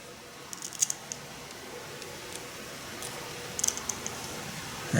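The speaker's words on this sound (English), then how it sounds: "We're going to go ceremonial first snip with my purple knife. Actually, the scissors on my purple knife." Scissors on a purple pocket knife make a few faint, quick snips and clicks against a steady low background, with no talking.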